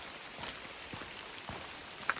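Steady soft patter of rain falling in wet forest on a hike south of Mount St Helens, a continuous faint hiss with a few brief louder drops, no voices.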